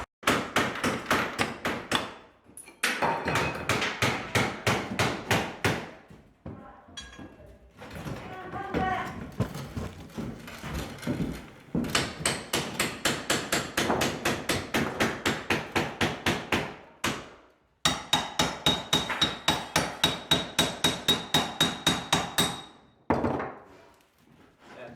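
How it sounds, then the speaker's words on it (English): Kitchen demolition with a crowbar prying cabinets apart: long runs of rapid, sharp banging and cracking knocks, close and loud, broken by short pauses and scraping. "Stick the crowbar the other way. Pull."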